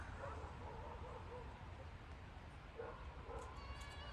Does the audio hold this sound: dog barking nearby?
yes